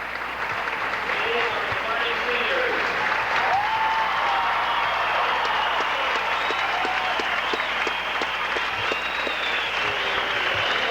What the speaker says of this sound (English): Crowd has been on their feet the whole time, applauding, giving all of these seniors the respect due them.